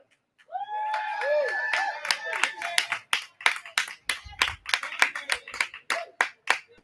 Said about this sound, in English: please give a huge round of applause to Deja